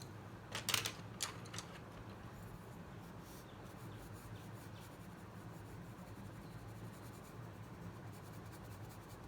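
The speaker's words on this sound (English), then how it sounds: "I'm going to color in for the cherries now." Colored pencil strokes scratch and rub on paper, a few sharp bursts at first, then a soft continuous scribbling that stays quiet and close.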